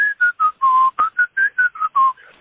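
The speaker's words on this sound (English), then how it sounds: "and then I just started whistling" A person whistles a bouncy tune in about a dozen short, clear notes that rise and fall in a quick, catchy rhythm.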